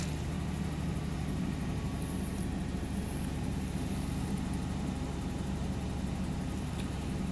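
A car engine idles steadily after being started, a rough low rumble with a single-cylinder misfire, continuous and fairly close with no talking.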